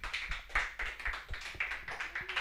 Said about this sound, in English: Round of applause for Mr. Avneesh right here.